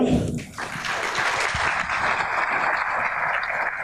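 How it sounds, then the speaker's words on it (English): Audience applause at the Miss Cochranton 2017 pageant for the outgoing royalty, a full, sustained roar of many hands clapping together, steady and fairly loud throughout with no voices over it. "How about another nice round of applause for this outgoing royalty?"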